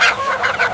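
A rooster offered for sale by a street vendor in a comedy skit gives a brief, close, honking squawk under a second long.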